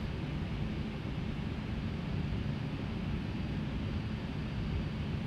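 An aircraft taxiing in the Microsoft Flight Simulator X video game makes a faint, even, continuous engine hum and rushing noise with no clear changes from start to finish.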